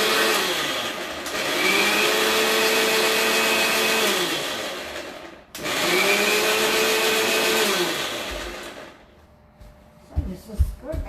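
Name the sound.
blender grinding ingredients without water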